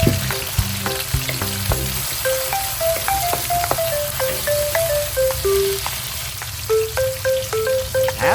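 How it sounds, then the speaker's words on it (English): Onion and tomato sautéing in oil in a pot, a steady close sizzle and crackle with a melody playing over it and no talk. "Saute onion."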